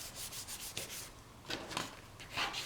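Score tape being burnished flat onto a folded card for a St. Patrick's Z-fold box card, a few soft, close rubbing strokes of moderate loudness with no talk.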